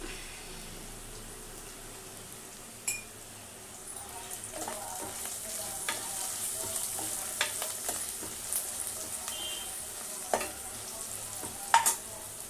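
Oil frying in a pan for tomato dal after turmeric goes in: a soft, steady sizzle close by, broken by a few clinks and scrapes of a spoon stirring, quiet and without talking.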